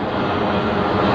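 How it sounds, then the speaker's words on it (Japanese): A passenger airplane on approach to Itami airport flies low overhead near Shin-Osaka station, a loud, steady broadband engine roar that fills the moment with no talk. "伊丹に降りる飛行機が"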